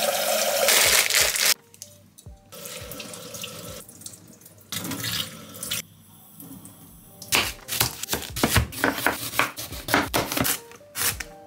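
Vegetables for a glass noodle meal kit are prepared in a kitchen, with a tap running water into a sink and then a burst of rapid knife chops on a board, loud and close.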